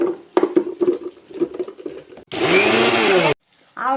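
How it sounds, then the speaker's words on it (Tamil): After some clattering and handling noises, a kitchen mixer grinder jar runs in a single loud, harsh whirring burst of about a second while powdering fenugreek and mustard seeds, then stops abruptly. "இதை மிக்ஸி ஜாரில் போட்டு அடிச்சுக்குவோம், பவுட்ரு பண்ணி எடுத்துக்குவோம்"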